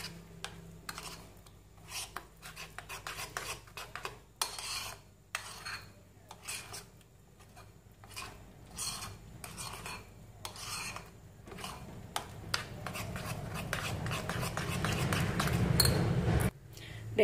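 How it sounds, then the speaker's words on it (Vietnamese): A spoon stirring banana cake batter of flour and sugar in a bowl, repeated soft scraping and rasping strokes in an irregular rhythm, close and quiet, growing denser toward the end. "Các bạn trộn đều lên cho mình."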